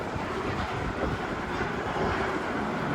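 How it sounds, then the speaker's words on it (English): Steady, roaring wind at Cedar Point amusement park on a cold day buffets the microphone, a dense rumble with no pauses, loud and close throughout. "It is so windy here."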